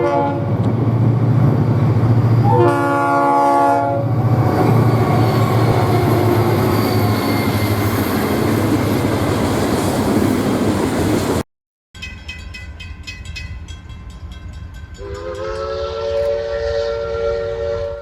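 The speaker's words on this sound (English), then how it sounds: "familiar sound of a Lanergan 3-chime whistle" U.S. Sugar steam engine 148's Lanergan three-chime whistle sounds a brief blast over heavy rumbling, then, after a cut, sounds again in a longer, steady chord.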